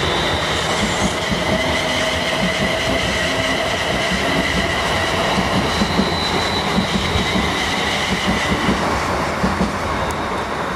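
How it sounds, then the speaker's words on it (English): A train rumbles steadily nearby at Milton Keynes Central Station with a constant mechanical drone and faint high squeal, loud and continuous without voices. "Train"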